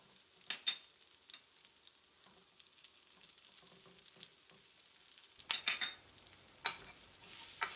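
Dried shrimp and chili being stir-fried for nasi goreng, a faint low sizzle broken by scattered spatula scrapes and clacks that grow louder and more frequent in the last few seconds, with no talking.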